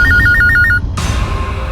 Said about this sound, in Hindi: चलो उठाओ, फोन उठाओ तुम्हारा अभी।